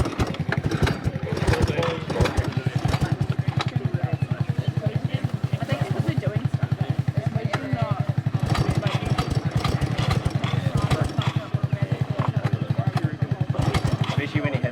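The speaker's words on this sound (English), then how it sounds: "trying to start Matt's bike" A motorbike engine is kicked or pulled over repeatedly in a rapid, steady chugging rhythm, loud and close throughout, with someone talking over it.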